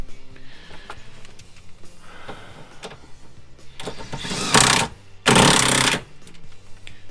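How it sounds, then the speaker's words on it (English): A pneumatic impact wrench drives seat bolts in a vehicle interior: faint clicks and knocks lead up to two loud, close bursts of rattling hammering, each lasting under a second. "if you got a friend that has one of these impacts, I suggest you borrow it"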